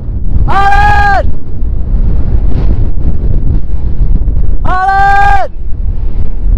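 Strong wind buffeting the microphone outdoors on Brava, Cabo Verde, a loud continuous low rumble throughout, with two bleating animal-like cries rising above it near the start and end.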